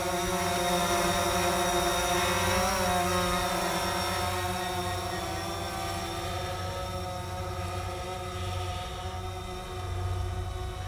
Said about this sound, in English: This is a powerful drone, let me tell you.